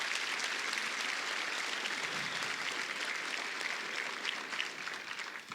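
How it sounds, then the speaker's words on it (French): An audience applauds the organizers of a marriage conference, a dense, steady wash of many hands clapping at moderate distance, sustained evenly throughout with no voices on top. "Est-ce qu'on peut applaudir les organisateurs en partant?"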